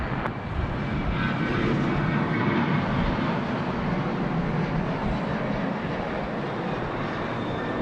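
A Qantas airliner roars steadily as it takes off from Sydney Airport runway 16 right, bound for Melbourne, a broad sustained jet rumble heard from a distance with no talk.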